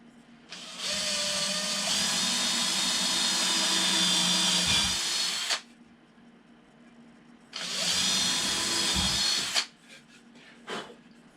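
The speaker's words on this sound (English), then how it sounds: "if we pre-drill a couple of holes onto this timber" A power drill whines at full speed for several seconds drilling pilot holes in timber, stops, then runs again in a shorter burst, loud and close, with brief clunks afterward.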